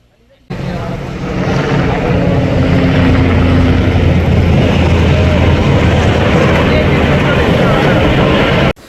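A deep-sea fishing boat's engine starts up abruptly and then drones loud and steady with a low throbbing hum as the boat heads out to sea, cutting off sharply at the end.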